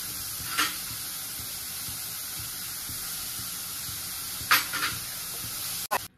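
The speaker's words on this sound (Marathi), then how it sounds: "गाजर किसलेलं आणि भोपळी मिरची आपण टाकून घेऊया।" Grated carrot and chopped bell pepper sautéing in a kadai, a steady close hiss of sizzling with a few brief scrapes of stirring and a sharp clatter near the end.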